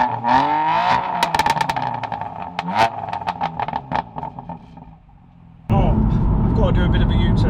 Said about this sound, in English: What else do I really like about this car? It makes an okay noise.